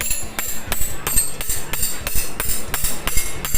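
Repeated hammer strikes on a part of a large Philips stand fan under repair, about ten sharp, evenly spaced taps in a steady rhythm, close and moderately loud with no talk.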